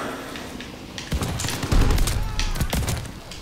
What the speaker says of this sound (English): I hit him with my nade